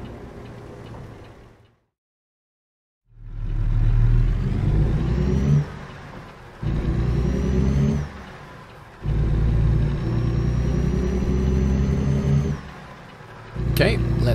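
The Caterpillar C11 engine of a 4x2 Peterbilt 579 truck in American Truck Simulator accelerates through the gears, a loud low rumble rising in pitch in several pulls, broken by short gaps at the shifts.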